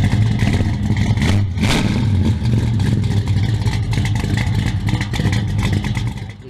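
A 1969 Mopar 340 block, built into a 372 stroker, roars through headers and Flowmaster mufflers. Its loud, close, continuous rumbling idle rises in repeated rev surges throughout, with no talking.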